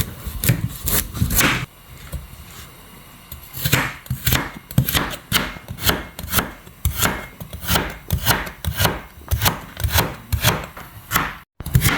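Rapid, steady knife chopping on a wooden board, julienning vegetables for pancit miki guisado, crisp rhythmic strokes close by, with a brief pause early on and no voices.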